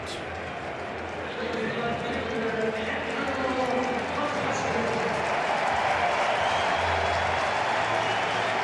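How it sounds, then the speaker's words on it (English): Baseball crowd at a Braves vs Phillies game applauding Andrew McCutchen, a steady, moderate wash of clapping and crowd murmur spread across the stadium, with an announcer's voice running over it. "Nice round of applause, as you would expect for Andrew McCutchen."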